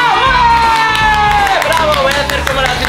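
Group of girls clapping and cheering in a steady, loud burst of crowd noise, with overlapping shouts and voices in a room.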